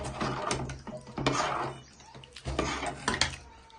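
Clinks and scrapes of a spoon stirring fish curry with salt and chili in a metal pan, uneven bursts of metallic knocks close up, with a voice speaking faintly underneath.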